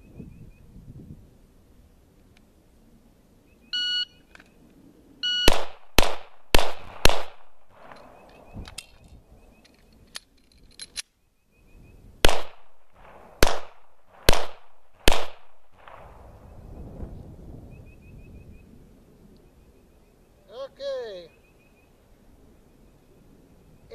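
A shot timer beeps, then handgun shots ring out during reload practice: a rapid string of about four sharp shots, a pause with handling noise, then another four, and later a further beep, all outdoors with no talk.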